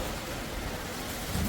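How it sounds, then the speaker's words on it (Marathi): Monsoon rain falls outside in a steady, even hiss that stays unbroken throughout, with no voices. "बघा मस्त पाऊस चालू आहे."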